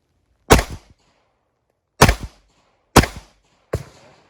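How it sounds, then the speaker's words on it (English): Four sharp handgun shots crack out on a shooting range, loud and close, spaced irregularly with short decaying echoes between them; no talking. "So I'm gonna go and pull the trigger."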